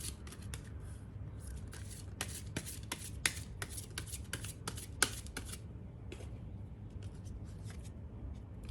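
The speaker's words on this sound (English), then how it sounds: "So we're going to be looking at this deck right here, and I'm going to be shuffling" A deck of tarot-style cards is shuffled by hand, producing repeated quick riffling bursts and crisp flicks at an uneven rhythm, close and fairly quiet with no talking.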